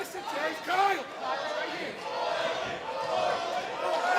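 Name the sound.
sold-out wrestling crowd cheering at Knoxville Convention Center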